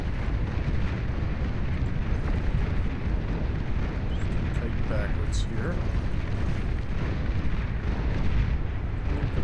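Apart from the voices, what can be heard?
Marauder cannon fire in the video game Beyond All Reason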